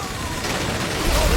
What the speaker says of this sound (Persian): بی نهایت هر چقدر دلت میخواد شلیک کن